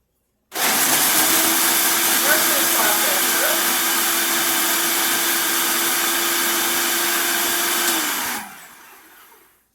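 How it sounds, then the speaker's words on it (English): Simple Mills peanut butter cookies are ground in a blender for a pie crust. The loud motor whirs steadily for about eight seconds, then winds down and stops. "we're going to just blend them here"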